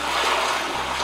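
A brief rush of water in the racing game Forza Horizon, played through a multichannel home speaker setup with subwoofer: a loud, steady splashing wash lasting about a second.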